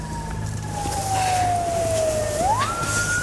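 An emergency siren wails with a slowly falling tone that sweeps back upward, loud and fairly near, over low rumbling traffic during a staged night-time border crossing experience.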